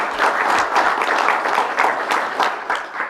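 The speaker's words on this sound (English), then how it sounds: "Let's give him a round of applause, please." A room of attendees at a tribal council meeting gives a round of applause, a steady and fairly loud burst of many hands clapping with no voices over it.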